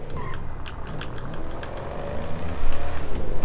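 A car engine driving in GTA V, a steady low motor drone that swells into louder pulsing revs toward the end, with faint game sounds above.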